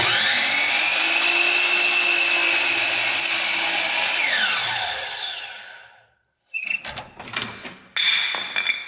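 A power saw cuts straight down through wood at a 45-degree angle for a picture frame: a loud, sustained whine that winds down over about six seconds, followed by shorter bursts of clatter and handling.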